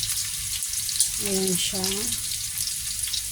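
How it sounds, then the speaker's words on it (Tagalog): Carrots and potatoes frying in a pan, a steady bright sizzle throughout, with a short spoken phrase in the middle over the hiss. "kapag piniprito muna yung carrots saka yung patatas, malasa siya"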